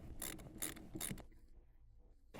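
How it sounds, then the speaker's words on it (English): Several quick ratcheting bursts from a 10mm socket ratchet tightening the steering column universal joint bolt on a 2006-2011 Honda Civic, close and crisp, followed by a quiet pause. "use a 10mm socket to tighten the hardware"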